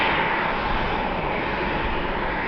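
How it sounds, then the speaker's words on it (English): A Delta Boeing 737 airliner taxiing at an airport during an airshow, heard as a steady, loud, broadband jet engine roar that holds constant throughout without voices. "Delta 737 taxiing over to its gate."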